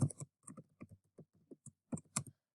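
Keys clatter on a computer keyboard while text is typed into a form, in short irregular bursts of clicks with brief pauses between them, close and fairly quiet, with no voices.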